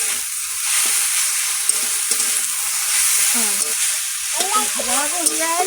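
Fish roe with drumstick leaves frying in a pan, a continuous sizzle with stirring scrapes throughout, and a voice faintly heard in the background near the end.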